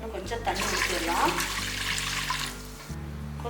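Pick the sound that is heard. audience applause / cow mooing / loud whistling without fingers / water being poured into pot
water being poured into pot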